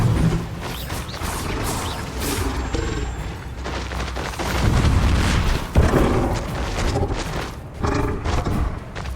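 Bombarda blasting spell in the Hogwarts Legacy video game, a dense, loud stretch of booming impacts, crashes and rumbling effects layered throughout, with no clear speech.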